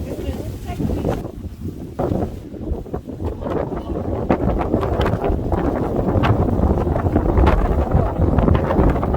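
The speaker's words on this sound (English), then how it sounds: "It's so windy at the beach, so it's a lot colder here." Strong gusting wind at the beach buffets the microphone in loud, rumbling bursts that build toward the end, with a voice faintly talking underneath.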